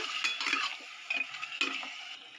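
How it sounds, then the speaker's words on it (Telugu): Masala is stirred into half a kilo of mutton in a pan for a mutton cucumber curry, giving close, irregular scraping and clinking strokes with soft sizzling underneath, alone without talk. "మసాలా బాగా ఫ్రై అయినప్పుడు బాగా మటన్కి కలిపేట్టు కలుపుకోవాలి మసాలా"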